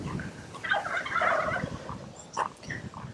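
Turkeys waiting outside a hen house in the Australian outback gobble in a quick, warbling burst, followed by a shorter call, moderately close against faint background noise.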